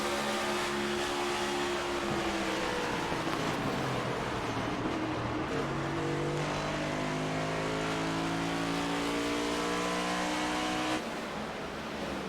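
Onboard the number 73 race car of Jake Nichols at Daytona, the engine drones loud and close, its pitch climbing and dropping through gear changes over a steady roar.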